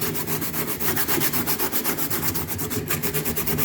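Steady back-and-forth rubbing of coarse 80 grit sandpaper over a fibreglassed panel on a TVR Chimaera, a close, continuous scratchy rasp with an even rhythm of strokes and no talk.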